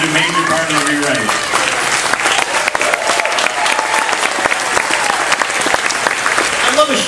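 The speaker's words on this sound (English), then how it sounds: "I love a show where coders get applause." Crowd applause during announcements at a concert on a cruise ship, sustained loud clapping with a few voices and cheers mixed in.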